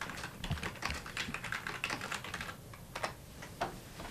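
Rapid clicking of keys on a computer keyboard in an office, a steady run of close keystrokes with a few louder taps and no talk.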